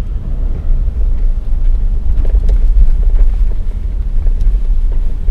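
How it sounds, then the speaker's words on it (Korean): Tire noise from a Kia Mohave rolling over a rough road section, a low steady rumble heard from inside the cabin with a few faint knocks and rattles, no talking. "타이어 소리밖에 안 들리죠"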